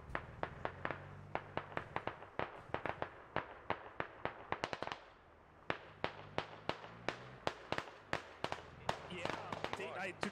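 Rapid, sharp gunshots from the video game SquadOps ring out in a dense near-constant stream of single cracks and short bursts, loud and close, with a brief lull midway before firing resumes.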